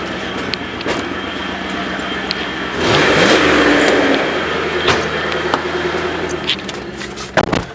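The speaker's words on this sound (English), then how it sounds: "I like the fucking exhaust on this" Dodge Durango with a welded differential off-roading, the engine exhaust rumbling loud and close, surging into a harder rev midway before settling back to a steady drone with some knocks and rattles.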